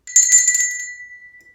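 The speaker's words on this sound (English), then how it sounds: "we're going to try and find out which bell is higher" A small handbell, the violet one of a pair in a children's music lesson, strikes a single bright, high ringing note that trills briefly and then fades away cleanly, heard alone.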